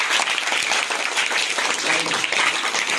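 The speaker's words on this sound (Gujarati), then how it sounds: "ખૂબ સરસ, તાળીઓ ગણો બધા." Schoolchildren clapping at a classroom quiz competition, a bright, continuous burst of many small hands applauding together, loud and close, with faint voices mixed in.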